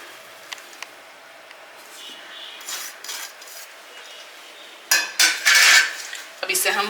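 A spoon stirs green garlic and lemon into lilva kachori filling in a pan, with soft scraping, then louder clinks and scrapes against the metal toward the end.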